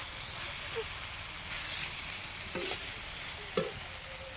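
Fish being fried and stirred in a spice masala in a pan for bain kosha, a steady soft sizzle with a few scraping stirs and utensil knocks, close and moderately quiet, no talking.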